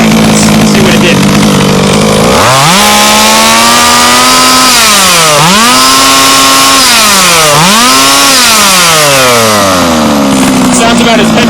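A Baja small-engine after a carburetor high-end mixture adjustment: a loud, close, raspy two-stroke whine that idles, then surges through several rising and falling revs before settling back down.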